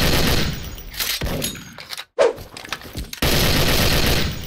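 Loud bursts of automatic gunfire in a video game, from a Soviet-era Degtyarev gun, in two long strings separated by a brief lull with a few sharper shots.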